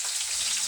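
Tilapia frying in hot cooking oil, a steady, even crackling sizzle throughout, close and fairly quiet, with no talking.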